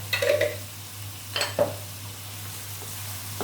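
Clams stir-fried with roasted chili paste in a pan give a few brief scraping stirs and faint sizzles, separated by quiet gaps over a steady low electrical hum.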